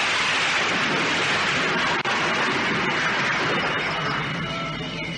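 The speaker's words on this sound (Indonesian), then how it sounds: "suara petir yang terdengar itu" Thunder rumbles as a loud, continuous broadband roar mixed with heavy rain, steady for several seconds with no talking.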